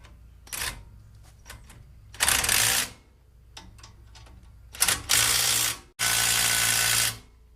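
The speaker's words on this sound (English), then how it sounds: "make sure you put these bolts in the back of your caliper and tighten them up" A ratchet tightens 17mm brake caliper bolts on a Toyota Tundra or Sequoia, heard as close, rapid ratcheting clicks in several bursts, some short and some long, with brief pauses between them and no speech.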